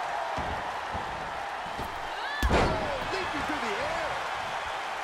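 A spinning sidewalk slam lands in the WWE 2K22 wrestling game with one heavy, sharp body-to-mat thud midway through. Crowd ambience and a commentator's voice run around the impact.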